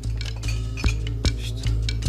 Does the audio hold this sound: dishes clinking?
yes